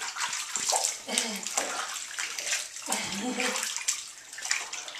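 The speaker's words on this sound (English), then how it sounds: "Oh, I tried to splash on the belly." A toddler splashes water in a bathtub, sloshing and splattering in bursts while adults talk and a child vocalizes close by.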